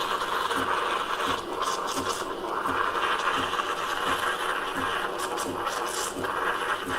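A Saeco Intuita automatic coffee machine dispenses milk with a steady mechanical buzzing and whirring, and a faint regular ticking runs through the whirr for several seconds.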